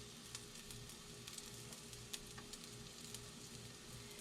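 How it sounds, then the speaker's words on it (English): Tuna cakes frying in oil in a pan, a faint steady crackling sizzle with small pops scattered throughout, heard alone without any talk. "That might need a little bit more oil. I feel like it might need a little. It needs to sizzle."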